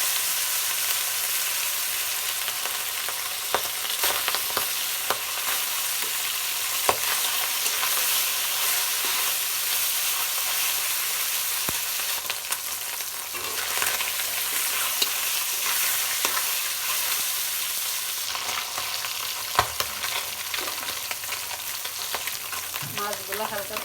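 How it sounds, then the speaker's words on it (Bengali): Stinging catfish lightly frying in oil in a pan, a continuous bright sizzle with occasional stirring clicks and scrapes, steady for the whole stretch with no talking. "আমি এবার জিওল মাছগুলো হালকা করে ভেজে নেব।"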